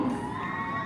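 A crowd cheers at a women's Asia Rugby match with Thailand playing, giving a steady, moderately loud roar of voices and shouts for under a second.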